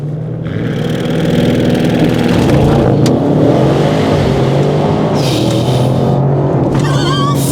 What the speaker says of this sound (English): So to put this car on launch control, RS2 mode, here we go.